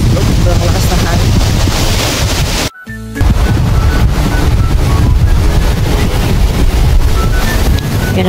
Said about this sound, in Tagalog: Kaso ng lakas ng hangin.